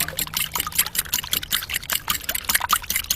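A fork beats six eggs with blue oyster liquid flavouring in a bowl for a carp boilie bait mix, giving a quick, steady run of close wet clicks and sloshing strokes with no voices.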